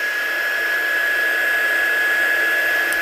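A heat dryer blows steadily on ink for a black-out embossing powder resist craft project with dye sprays, a close, even whirring hiss with a faint high whine, with no talking.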